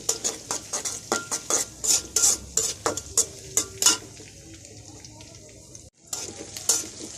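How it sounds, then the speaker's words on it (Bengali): Ginger-garlic paste is added to fried onions in a pan for a spicy singara filling; a metal spoon scrapes and clanks in quick, rhythmic strokes over a soft sizzle, then pauses before stirring resumes. "পেঁয়াজটা ভালো করে ভাজা হয়ে গেছে। এরকম দেখেন, আদা রসুন পেস্ট দিলাম।"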